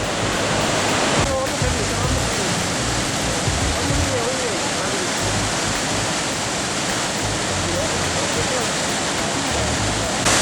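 Victoria Falls on the Zambezi River in Zimbabwe, a huge waterfall crashing into a gorge: a loud, constant broadband roar of falling water fills the scene, with faint voices of people present beneath it.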